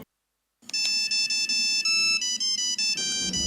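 A mobile phone ringtone plays during a student skit performance, a loud, close, repeating electronic melody in short rhythmic bursts after a brief silence, with no talk over it.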